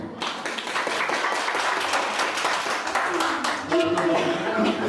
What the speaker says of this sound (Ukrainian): Оплески в номер один